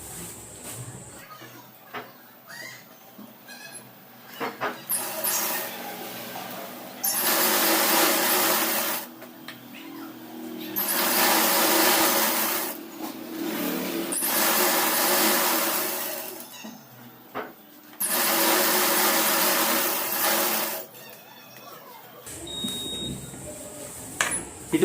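An electric sewing machine stitches saree petticoat fabric pieces together in several steady whirring bursts of a few seconds each. Quieter pauses and handling noises fall between the runs.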